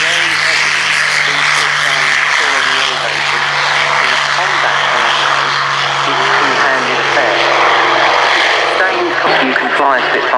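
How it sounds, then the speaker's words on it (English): A Hawker Hurricane fighter, a propeller-driven WWII aircraft, drones past steadily at an airshow, its engine a continuous loud roar under a commentator's talk throughout. "here goes the Hurricane"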